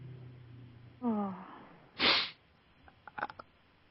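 A single sharp sneeze bursts out midway, preceded by a short vocal sound and followed by a few small breathy noises.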